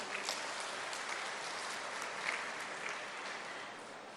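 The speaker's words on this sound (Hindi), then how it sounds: "जोरदार अभिनंदन करें अपनी तालियों की गड़गड़ाहट से।" Crowd applause fills the open-air tribal heroes' pride ceremony at Garrison Ground, Jabalpur, a steady, dense wash of many hands clapping at moderate distance with no voices over it.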